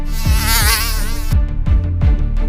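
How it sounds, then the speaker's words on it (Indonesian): A mosquito buzzes loudly and close with a steady, whining drone for a couple of seconds, joined by several low, soft thumps. "Di posisi pertama, hewan paling mematikan ditempati oleh nyamuk."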